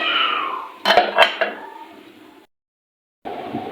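Cooked potatoes and chicken being moved into a metal pot, with a few sharp clinks of a utensil against the pot amid soft scraping and rustling, close up, then a brief pause before more clattering.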